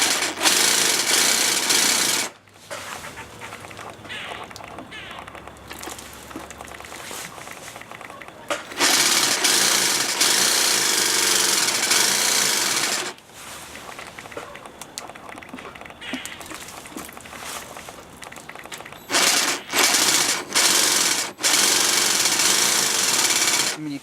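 A jigsaw cuts straight lines through tile in loud, sustained buzzing bursts separated by short pauses, running alone without talk.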